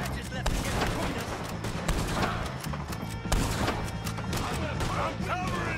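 A Red Dead Redemption 2 shootout with the O'Driscoll gang fills the air with rapid, overlapping gunshots, loud and close in irregular bursts, while voices shout over the exchange.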